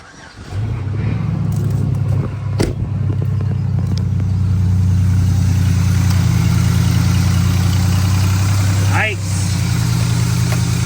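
A truck engine fires up after a repair and settles into a steady, loud, low idle that drones on without a break, with a brief mechanical clank near the start.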